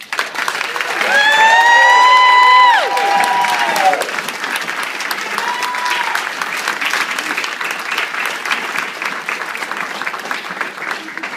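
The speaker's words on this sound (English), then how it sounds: "Please join me in giving Cari Husar a round of applause" Audience applause at an award ceremony honoring a Parent Resource Center honoree, a dense steady clapping across the room that continues throughout, with a voice speaking over the opening seconds.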